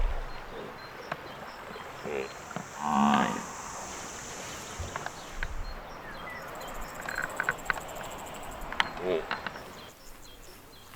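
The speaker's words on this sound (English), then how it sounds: "In times of danger, buffalo emit deep, resonant warning calls, powerful vocalizations that echo across the land." Water buffalo in a wetland give a few deep, resonant moos at mid distance, brief calls rising out of quiet outdoor ambience with faint birds and scattered knocks.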